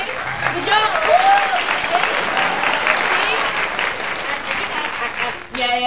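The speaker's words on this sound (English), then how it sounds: "Give a round of applause for competing." A round of applause from participants at the close of a warmup and workout exercise session, loud and continuous clapping with cheering voices over it, then a brief pause at the end.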